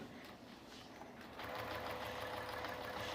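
A sewing machine runs while quilting a large quilt on a Cutie quilting frame, humming quietly at first and then speeding into a louder, steady, rapid stitching drone.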